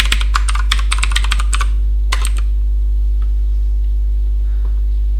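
Rapid keystrokes on a computer keyboard while writing a TeX macro come in a dense burst, then a short second flurry and a few faint isolated taps over a steady low electrical hum.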